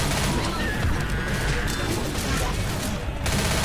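Dense, loud gunfire from the video game Left 4 Dead rattles in continuous bursts, with crashing hits layered in and a voice occasionally heard underneath.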